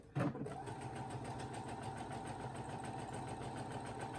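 A sewing machine stitching with Gutermann thread at a stitch length of 3, opening with a short loud clunk and then a steady, fast, even mechanical whir and tapping rhythm, close and continuous without talk.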